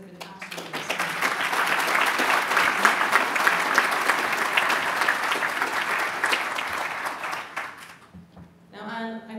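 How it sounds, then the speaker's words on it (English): An audience breaks into sustained applause at a panel event, swelling quickly and holding at a strong, even level for several seconds before fading out, with a voice starting up at the very end. "So can I please ask you to give Springboard a huge round of applause"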